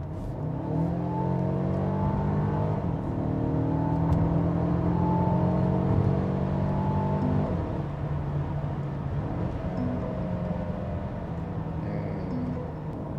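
Mercedes-Benz GLB 250 4Matic engine in sport mode, revving steadily from inside the cabin with rising and falling harmonic tones as the car accelerates and shifts, continuous and fairly loud throughout.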